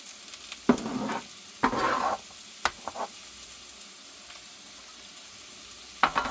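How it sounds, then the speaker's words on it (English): Vegetables sizzle and crackle in a hot pan, with several bursts of louder hissing and scraping stirs spaced irregularly over a quieter frying background. "And I'm just going to add them right over here to the frying pan."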